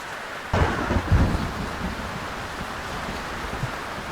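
Close thunder cracks and rumbles during a lightning storm at sea in Sailwind, with rain and wind hissing steadily underneath.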